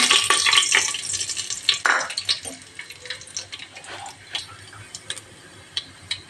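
Whole garam masala spices hit hot oil in a pressure cooker, giving a bright crackling sizzle that flares at first and then settles into scattered pops and spits, close and fairly loud, with no voices.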